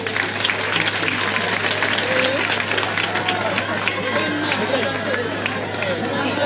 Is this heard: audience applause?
yes